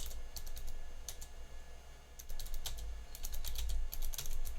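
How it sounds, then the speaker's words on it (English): Fast bursts of typing on a computer keyboard during a live chat, clusters of crisp key clicks with short pauses between them, close and fairly quiet over a low hum. "I'm typing away in the chat."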